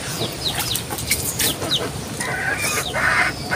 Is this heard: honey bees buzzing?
no